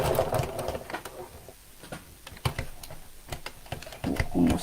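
Domestic sewing machine stitching around a zip slider, a few short bursts of rapid mechanical needle chatter with brief pauses between, close and clear, with quiet handling noises in the gaps.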